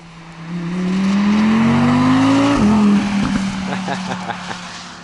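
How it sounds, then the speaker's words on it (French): A 2019 Audi R8 V10 Performance with carbon-ceramic brakes drives past below, its engine rising in pitch as it approaches, then dropping and fading into the distance, with someone talking over it. "on va la voir passer en bas."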